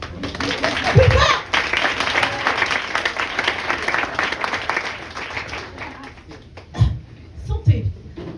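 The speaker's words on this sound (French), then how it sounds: "on les applaudit" An audience applauds at a comedy stand-up show. A dense, loud mass of clapping holds for several seconds, then thins and fades. A voice talks over it near the start and again at the end.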